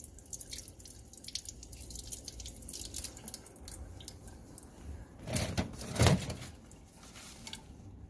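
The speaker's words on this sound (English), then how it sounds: "Let me just give it a final rinse, and then we'll take a little bit closer look at it." Water runs and drips while a freshly made nylon fiber is rinsed at a chemistry lab bench, a steady low wash with scattered splashes and a louder surge of flowing water near the end.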